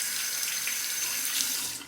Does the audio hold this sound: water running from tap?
yes